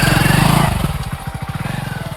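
A motorcycle engine runs loud and close, revving briefly and then settling into a fast, even pulsing idle.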